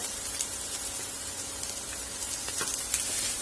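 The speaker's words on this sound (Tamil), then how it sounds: "வெங்காயத்தையும் பச்சை மிளகாவையும் வதக்கி விட்டுலாம்" Finely chopped onion and green chilli sautéing in hot oil in a pan, a steady close crackling sizzle with occasional sharper pops, no voices.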